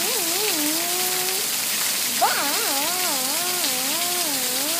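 Heavy rain hisses loudly and steadily on surfaces throughout, a dense continuous wash, while a wavering warbling voice or call rises above it, fading in again after a brief break.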